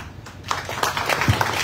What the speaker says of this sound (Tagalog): Maraming pumapalakpak sa iyo rito